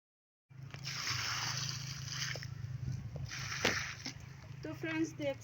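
Water poured onto small potted plants, a steady splashing trickle running for several seconds, close by, with a voice speaking briefly near the end.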